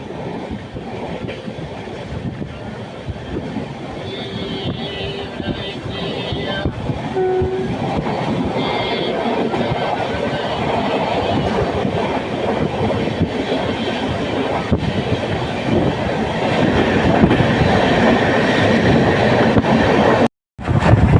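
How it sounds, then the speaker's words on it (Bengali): A passenger train running on rails between Mumbai and Pune through hilly country, a steady continuous rumble of wheels and carriage noise heard from on board, loud and unbroken throughout with no talk. "আর ট্রেনও চলতে শুরু করলো"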